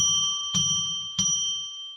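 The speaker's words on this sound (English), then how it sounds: "We're now going to ring the bell 3 times" A small ritual bell or chime rings three times, each strike bright and ringing with a long sustained tone that decays slowly between hits, clear and close with no talking.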